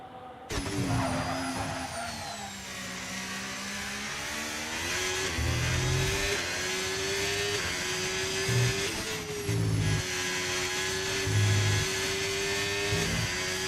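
Formula 1 car engine at high revs on a fast lap during Bahrain pre-season testing, a sustained droning whine that holds steady and shifts pitch slightly, with brief low thumps, loud and continuous throughout.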